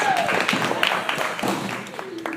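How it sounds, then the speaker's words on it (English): Scattered clapping from a small group, fairly steady and moderate in volume, with some voices and room noise mixed in. "Everybody clap for Teo."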